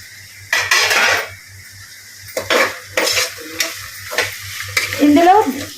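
Carrot and bean pieces for vegetable pulao frying and being stirred in a pan, with bursts of sizzle, metal spoon scrapes and clinks against the pan, loud and close, plus a low rhythmic hum underneath.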